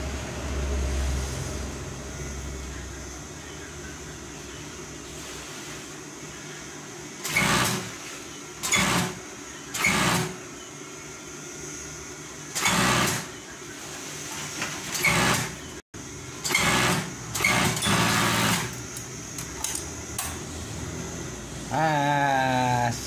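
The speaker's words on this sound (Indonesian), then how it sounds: "Kita obras kerahnya, yuk. Kita obras lagi kerahnya." An overlock serger stitches a shirt collar in several short bursts of loud whirring, each lasting about a second, over a constant background hum.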